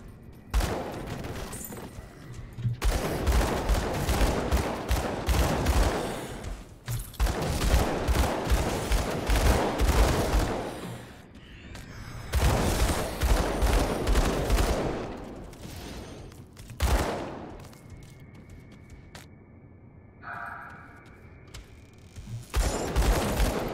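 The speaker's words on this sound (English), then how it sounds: "Just gonna fire blindly through this doorway until things stop coming through it." Video-game gunfire in Grim Dawn, fired blindly through a doorway: dense bursts of rapid shots in several long volleys separated by brief lulls, loud and close, with a few quieter electronic tones between bursts.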